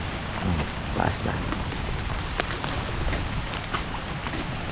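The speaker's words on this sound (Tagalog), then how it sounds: "Wala pong tigil ang ulan." Heavy, unceasing rain during a flood in the Philippines, a steady broadband downpour hissing on surfaces nearby with scattered louder drops and gusty wind noise, no break in intensity.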